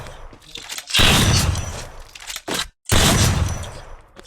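Sniper gunfire in a video game comes as two loud, sharp bursts with a short crackling burst between them, close and harsh against a quiet backdrop.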